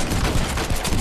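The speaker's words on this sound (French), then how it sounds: "Je vais faire des tirs." Gunfire from a Red Dead Redemption Online match, a short, dense burst of loud, rapid shots packed close together.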